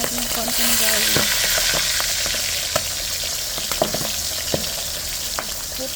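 Garlic fries in a hot pan with a dense, continuous sizzle and crackle, scattered sharp pops and occasional stirring clicks, close and steady throughout.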